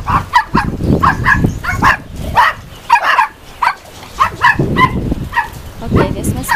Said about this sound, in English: Oh no, doggies, don't bark at me.